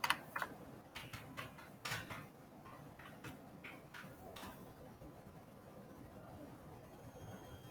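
Faint keystrokes tap on a computer keyboard in a quiet room, with a quick burst of about a dozen clicks that stops partway through, leaving soft background hum.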